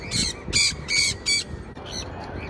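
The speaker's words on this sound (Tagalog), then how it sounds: "Dito kami nagtitrain ng mga ibon dyan." Trained pet birds squawk in a rapid series of four or five harsh, loud calls close by, followed by a fainter squawk after a short pause.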